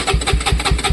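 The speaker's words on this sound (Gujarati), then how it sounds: "આપણે ચલો મસ્ત સાઉન્ડ આવે છે બાઇકનું, એક નંબર." A Bajaj Pulsar N160 motorcycle engine idles close by after a cold start, a loud, steady pulsing thump with a regular rhythm of about five firing beats per second.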